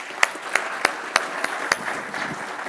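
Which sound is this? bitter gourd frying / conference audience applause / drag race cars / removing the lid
conference audience applause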